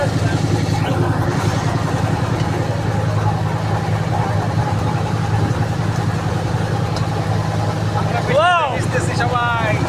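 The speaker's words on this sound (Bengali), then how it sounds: "আমাদের ট্রলার এগিয়ে চলছে" Trawler boat engine droning steadily while moving along a river in light drizzle, a loud close hum with a continuous low rumble, and a brief burst of lively voices near the end.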